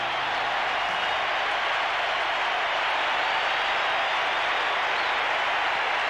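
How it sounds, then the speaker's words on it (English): Dense crowd applause at the MCG during the 1987 VFL semi final between Melbourne and Sydney, a continuous distant roar of clapping across the stadium as a player leaves the ground. "The applause from the crowd as Robert Flower is taken off the ground"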